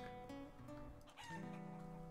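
Many chickens clucking together in the Life Is Feudal: Forest Village game, a dense, continuous chorus over a steady background hum, with no talking.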